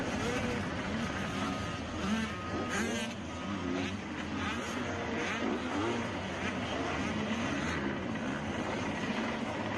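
A small KTM motocross bike, around 105 to 112 cc, races among bigger bikes at a Loretta Lynn's amateur motocross moto, its engine buzzing and wailing continuously at mid distance, mixed with crowd and announcer chatter.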